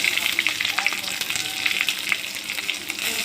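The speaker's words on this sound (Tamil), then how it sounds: "கடுகு பொரிஞ்சோன்னே கருவேப்பிலை கொஞ்சம் கொஞ்சம் இருந்தால் போட்டுக்கோங்க டேஸ்ட் நல்லாயிருக்கும் நல்லா வதங்கட்டும்" Mustard seeds and curry leaves fry in hot oil with a close, busy sizzle peppered with sharp crackles and pops, cooking for a snake gourd gravy.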